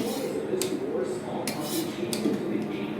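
A sealed lid is lifted off a pot of mutton yakhni pulao, giving several light metallic clinks and scrapes of cookware over a soft hiss, close and fairly quiet.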